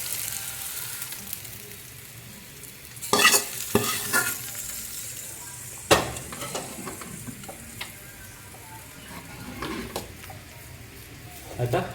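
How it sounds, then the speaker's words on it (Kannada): Tempering being stirred into bisi bele bath on a stove: a soft steady sizzle with a few louder clinks and scrapes of a spoon against the pot, close by, with no talk. "ಒಗ್ಗರಣೆನ ಬಿಸಿಬೇಳೆಬಾತಿಗೆ ಸೇರಿಸ್ಕೊಳ್ಳೋದು"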